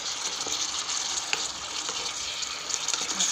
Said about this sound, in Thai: อันนี้ผัดพริกหยวกหมูผัดพริกหยวกให้อร่อย